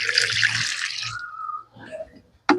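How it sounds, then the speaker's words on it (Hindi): Water poured from a container into a dry plant pot, liquid fertilizer solution splashing steadily for about two seconds, then a brief trickle and a sharp final splash, close and fairly loud. "इसमें भी मैं इसी तरीके से इन सभी पानी को डाल दूंगा"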